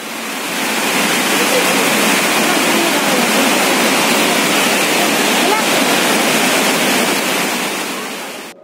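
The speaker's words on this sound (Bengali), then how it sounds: "মোটামুটি 300 মিটার ওপর থেকে জল নিচে পড়ছে এই ওয়াটারফলসটিতে।" A waterfall where water drops roughly 300 metres near Kolakham in North Bengal, a loud, steady broadband roar that holds unbroken for the whole stretch and cuts off abruptly at the end.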